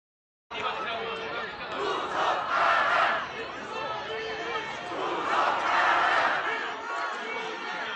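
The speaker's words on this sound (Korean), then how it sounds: "함성 한번 볼까요?" A huge outdoor political rally crowd roars and shouts in a sustained, swelling cheer, the massed voices rising in two loud waves over a constant wash of distant chatter.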